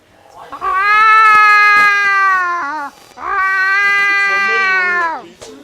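A person's voice imitates a horny cat's yowl in two long, loud, wailing calls with a brief pause between them, close and dry.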